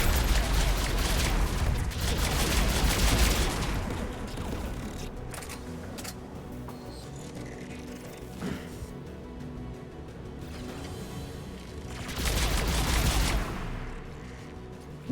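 Bursts of gunfire from the guns protecting the tower on Rannoch in Mass Effect 3, loud rapid volleys at the start and again near the end, with quieter mechanical rumble in between and no talk.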